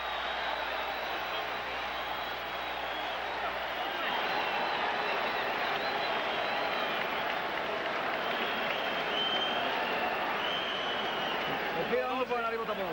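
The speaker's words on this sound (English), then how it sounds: "the crowd is on its feet again" A boxing arena crowd on its feet at the close of round 10, roaring and applauding steadily and loudly throughout, with a voice talking over it near the end.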